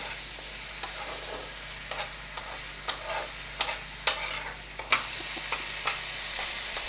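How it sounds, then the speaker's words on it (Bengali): Onions fry in oil until browning for an egg korma curry, a soft continuous sizzle broken by sharp spatula scrapes and taps every half second or so, close but fairly quiet. "এইভাবে পেঁয়াজটা ব্রাউন হওয়া পর্যন্ত ভাজতে থাকবো।"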